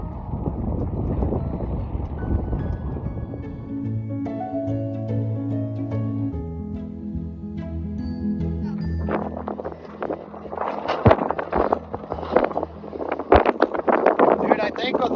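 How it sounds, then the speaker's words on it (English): Strong hurricane wind buffets a golf course in broad, rumbling gusts that roar into the microphone, rising into louder, choppy bursts toward the end while steady tones hum underneath. "there's also about an 800 mile an hour headwind that he's putting into"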